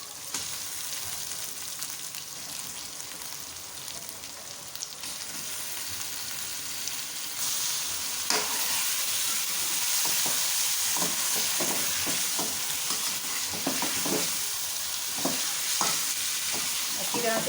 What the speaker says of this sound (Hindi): अच्छी तरह से इसको भूनें। साथ ही चिकन डाल दें।